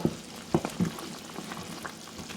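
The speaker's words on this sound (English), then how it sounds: "Let me mix it." A spoon stirs Ofe Owerri, an Igbo soup, in a pot, giving a few low thumps and scrapes over a steady bubbling, sizzling background, close and moderate in level.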